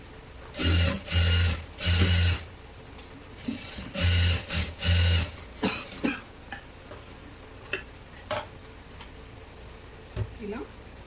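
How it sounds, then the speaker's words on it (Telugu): A sewing machine stitches the lining of a blouse in short bursts of fast, steady whirring, three and then three more. Sparse clicks and taps follow, and someone talks between the runs. "ఓన్లీ లైనింగ్ పార్ట్ మీదనే మనం కుట్టు వేయాలి."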